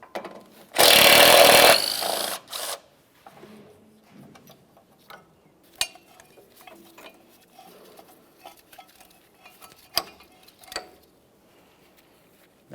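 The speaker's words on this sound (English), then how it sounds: "we'll continue on with removing the bolt that holds the bracket holding the flex hose in place" A power tool burst of about a second, loud and close, loosens a brake hose bracket bolt on a 1999-2006 Chevrolet Silverado 1500, followed by faint ratchety clicks, taps and metallic handling.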